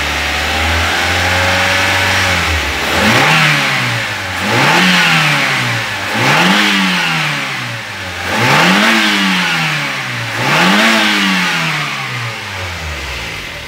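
A Daihatsu Gran Max engine idles, then revs repeatedly in five or six rising and falling bursts, loud and close, with no voices over it.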